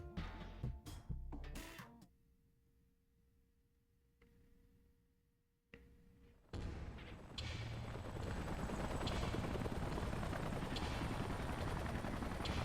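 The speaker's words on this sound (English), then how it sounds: "Let's call in the salvage choppers and get it out of here." Salvage helicopters arrive in Xenoblade Chronicles X: after some sharp game clicks and a quiet lull, a loud, steady rotor roar swells in and holds, dense and close, with no one talking.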